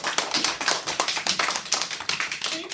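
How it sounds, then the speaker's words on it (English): Children in a school setting give a loud round of clapping, a brisk, rapid patter of many hands that stays steady and fairly close throughout, with no talking. "Everybody give Mr. Robbie a loud clap"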